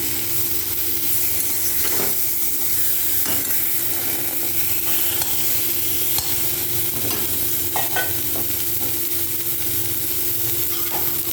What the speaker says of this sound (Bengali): এরপর টমেটো কুচি দিয়ে দিচ্ছি